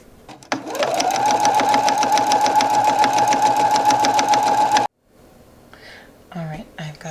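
A sewing machine runs steadily for about four seconds, stitching bias tape along a shirt hem, close and loud, then stops abruptly; faint rustling and brief handling sounds follow.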